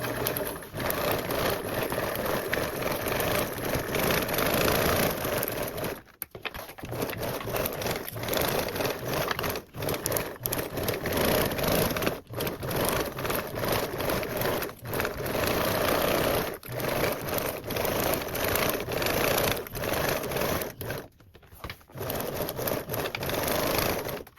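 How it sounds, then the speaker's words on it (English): A sewing machine runs in long, rapid bursts while basting fabric around its edge at a narrow seam allowance, whirring loudly with brief pauses between runs. "basting around the perimeter with a 1/8 seam allowance"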